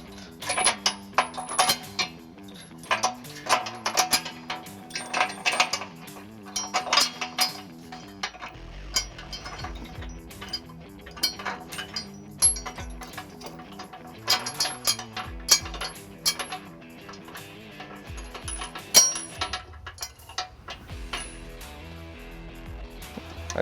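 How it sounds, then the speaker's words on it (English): Hitch bolts with flat washers and flange nuts are fitted during a trailer hitch install on a 2022 Ford Bronco, a busy series of close metallic clinks, taps and rattles in irregular bursts. "we're going to feed our provided bolts through the holes on the hitch with our flat washer on them"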